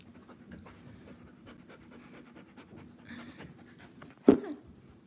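A dog pants close by in a steady quiet rhythm, with a brief louder snort or whimper near the end and no talking.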